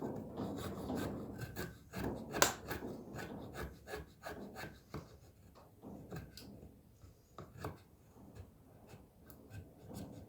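Knife blade shaving very soft pine, making repeated dry rasping scrapes in short strokes at an uneven rhythm, quiet and close.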